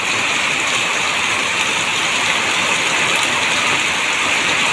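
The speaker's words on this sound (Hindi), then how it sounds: "मेघ टुपे टुपे पड़ुची" Heavy rain from a low-pressure system in Angul pours down as a steady, dense hiss with no breaks or voices, close and uniform throughout.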